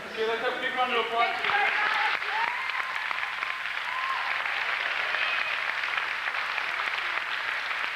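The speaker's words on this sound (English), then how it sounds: "let's have a big round of applause" A theater audience applauds after a stage production of Frankenstein, steady dense clapping that continues for several seconds, with a voice speaking over the start.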